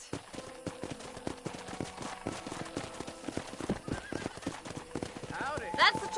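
Horse hooves clip-clopping in Red Dead Redemption, a brisk run of close hoofbeats, with faint voices talking over them and a brief whinny near the end.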